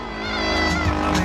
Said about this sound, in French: La machine qui est toujours en fonction. Le moteur qui tourne